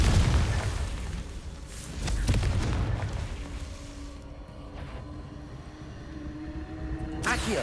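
The Confringo spell in Hogwarts Legacy sets off a heavy booming explosion, with a deep blast and rumbling debris at the start, a second thud, then a fading low tail and a sharp burst near the end.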